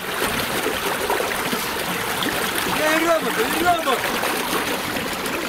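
Water gushing out from beneath an earthen pond dam during an April breach, a steady rushing flow heard outdoors with people talking over it.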